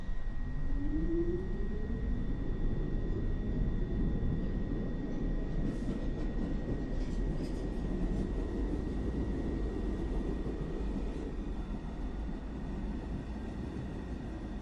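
An R62 local 1 train running on the New York City subway, a continuous loud rumble of wheels and car body that stays steady throughout, with brief rattling mid-way.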